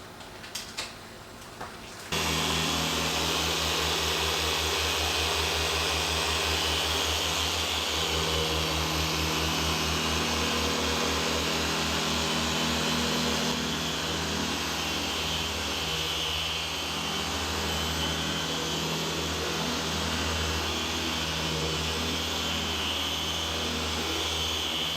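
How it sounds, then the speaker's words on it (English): A polishing machine works a 2016 Bentley Continental bonnet, a loud continuous motor whir starting abruptly after a brief quieter moment and holding steady throughout, no voices. "machine polish the bonnet, then machine polish the sides"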